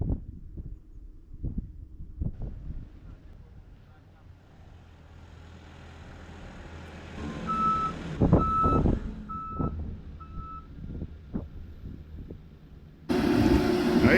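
A truck delivering a septic tank at a desert off-grid site rumbles nearby, with a repeating reversing beep as it backs in, clanks of unloading, and a burst of louder engine noise at the end; voices are faintly heard.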